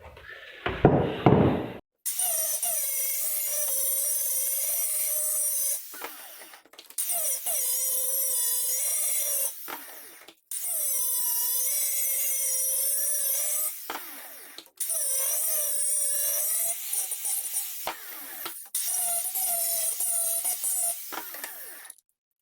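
An angle grinder bites into the end of a steel pipe being fitted to a Chinese red pipe clamp: five loud, sustained, rasping grinding bursts of a few seconds each, separated by short pauses.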